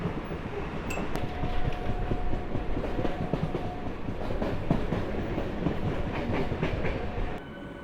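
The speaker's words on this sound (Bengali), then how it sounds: "সকাল সকাল লোকাল ট্রেনের জার্নি" An early-morning local train on the Ranaghat to Amghata line through Shantipur rolls along steadily, with a continuous rumbling roar, rattling carriages and occasional metallic clinks heard from inside.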